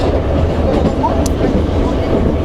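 A Moscow metro train runs along an overground stretch of track, a loud, steady rolling rumble with rhythmic wheel clatter and brief metallic squeaks from close by.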